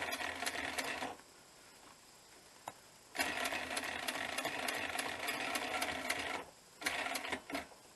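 Sewing machine double-stitching a bushcraft working vest, its fast steady whir running in two longer bursts with a short pause between them and brief stops, close and clear with no talking.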